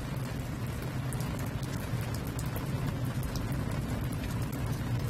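Steady rain falls outdoors, a dense continuous patter with scattered sharper drops hitting nearby surfaces, even in level throughout and with no voices.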